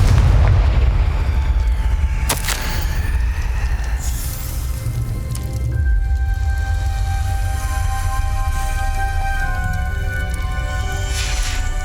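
A Confringo fire spell explodes in Hogwarts Legacy at Rookwood Castle, a loud blast with a sharp crack near the start, then a sustained rumbling roar with ringing magical tones that fades over several seconds; no talking.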